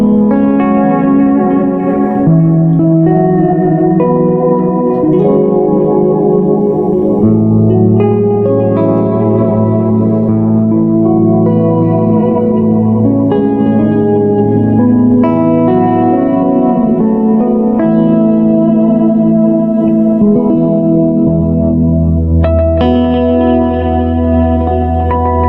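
Electric guitar running through a Boss MS-3 multi-effects unit set to a 7-tap delay with modulation reverb, sustained notes and chords smearing into dense, shimmering repeats that stack and ring continuously at full volume with no talking.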